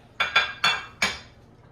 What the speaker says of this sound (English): I'm just going to pop them into a little dish here.